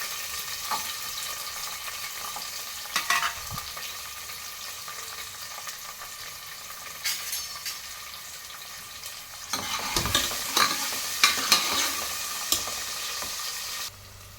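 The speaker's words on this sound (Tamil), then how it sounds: "வெங்காயமும் வெள்ளைப்பூண்டும் அரைச்சி வச்சுருக்கோம், அதை போட்டுக்கலாம்" Ground onion and garlic paste fries in a pan for a beef tamarind curry, giving a continuous hiss, with scattered stirring scrapes that grow busier and louder toward the end.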